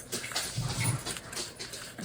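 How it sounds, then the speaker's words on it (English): Pet dogs roughhousing indoors, with soft whimpers and scuffling yips over a constant, fairly loud noisy background, all in a short burst of play. "my dogs have decided that now is the perfect time for a puppy death match"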